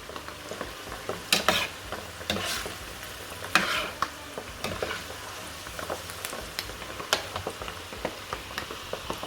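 Butter boils in a pan on the stove over medium heat, giving a soft bubbling sizzle broken by repeated sharp stirring scrapes and spatters at an uneven rhythm, close by and with no voices.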